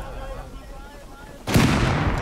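AK rifle fire in the game Rust bursts in suddenly and loudly, a dense rattle of close shots after quieter moments with voices in the background.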